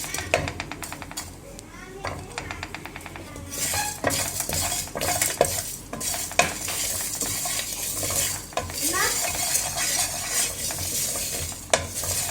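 Whole spices dry-roasting in a pan for a turnip and meat curry masala, stirred with a utensil that scrapes and clinks against the metal over a soft sizzle, with a voice talking at times.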